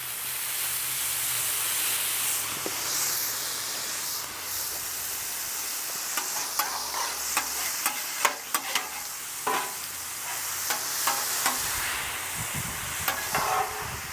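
Steady sizzling hiss of onions frying in beef fat on a hot griddle, with scattered scrapes and taps of a spatula stirring them.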